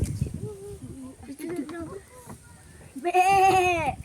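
Goats bleat loudly near the end, a wavering cry following murmured talk and rustling in the background.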